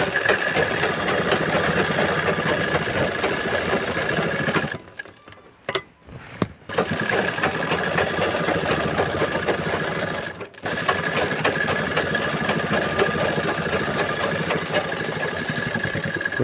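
A sewing machine running steadily while double-stitching a pocket onto a petticoat, a loud close mechanical whirr that pauses briefly twice before resuming.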